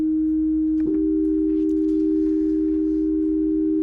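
Two steady sine tones a major third apart, at a 5/4 frequency ratio, in a physics lab: one pure tone holds alone, then a second joins just under a second in and both sustain together, clean and unwavering.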